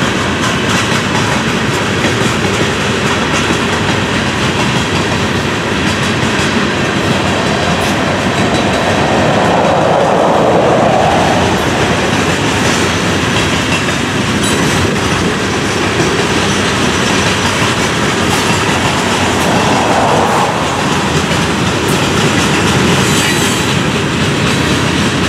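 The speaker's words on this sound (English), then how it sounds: "Powdered cement in these covered hoppers." A freight train of covered hoppers loaded with powdered cement rolls past steadily and loudly, a continuous rumble of wheels with rhythmic clickety-clack and occasional faint squeal throughout, with no voices.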